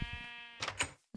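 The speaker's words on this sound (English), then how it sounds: "Creepy sheep." Sheep bleating in the Minecraft video game, a couple of short synthetic bleats over a steady background tone, ending in a brief pause and one short sound.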